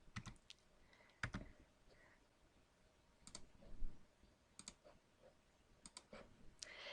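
Keys tapped on a computer keyboard while entering a selection command in drafting software, arriving as scattered short clicks in a few small bursts, quiet and close, with no talking.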